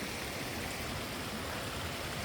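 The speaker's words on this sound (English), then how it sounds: "Oh, more sketchy creek crossing." A creek in the Daintree rainforest flows steadily at a rocky crossing, a continuous dense rushing and splashing wash of water, close and even throughout with no voices.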